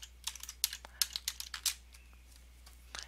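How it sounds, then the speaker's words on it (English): A search term being typed on a computer keyboard, a quick run of close, crisp key clicks that stops, then one last tap. "you can simply type in a name"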